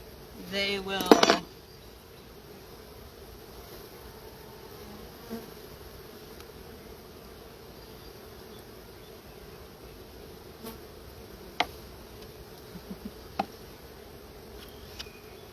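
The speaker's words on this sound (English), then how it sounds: "now that there's less bees, they'll hopefully go inside versus staying outside" Honey bees buzz around an open hive in a steady, low, continuous drone, with a brief clatter of handling near the start and a few faint ticks and clicks later.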